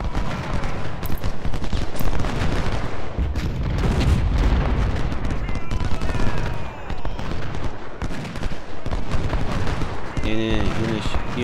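Massed musket volleys and cannon fire from a Civil War strategy battle in Ultimate General: Civil War, at Bayou Fourche, crackling steadily throughout with heavy booms beneath, and someone speaking over it near the end.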